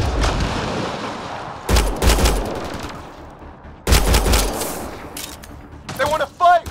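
Bursts of automatic gunfire in the sci-fi shooter Mass Effect: Andromeda crackle loudly in several separate volleys with short pauses between them, and a voice is heard near the end.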